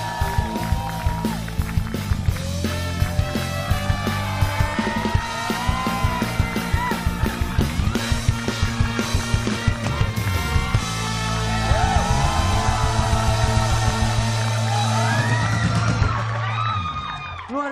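An audience at an Indonesian TV show appearance by a Power Rangers actor screams and cheers hysterically, a dense, loud, continuous roar of shrieks and whoops with rhythmic thumping underneath.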